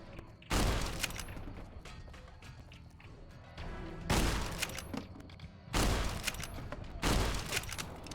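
Gunshots in the game Fallout New Vegas during the Honest Hearts DLC: four loud, sharp reports spaced a few seconds apart, each with a booming decay, amid clattering in-game activity.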